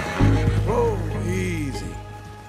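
A horse in Red Dead Redemption 2 gives a loud, close neigh with a rising then falling whinny, followed by a softer trailing call over a low steady background hum.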